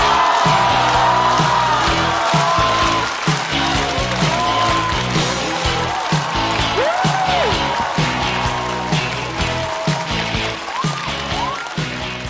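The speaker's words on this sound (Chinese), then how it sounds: "掌声欢迎 Kid。" A stand-up comedy audience claps and cheers to welcome comedian Kid onto the stage, a dense, loud wash of applause with scattered whoops that holds steady and then tapers slightly toward the end.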